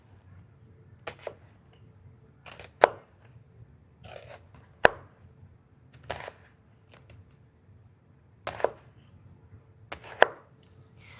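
Knife slicing an onion into long strips on a cutting board while making guacamole, about seven sharp, separate chops spaced roughly a second or two apart over a quiet room hum.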